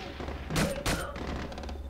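Two loud gunshots crack about a third of a second apart in the video game Splinter Cell Conviction, each a short broadband burst over a steady low game hum and a background bed of murmured voices.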